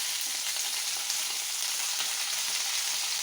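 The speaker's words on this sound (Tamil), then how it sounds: "அப்படியே நம்ம கருவேப்பிலை கொஞ்சம் கொஞ்சமாக சேர்த்து ஒரு 2 கைப்பிடி சேர்த்து நல்லா ஃப்ரை பண்ணி எடுக்கலாம்" Curry leaves frying in oil in a pan, a steady bright crackling sizzle that stays even and close throughout, with no voices.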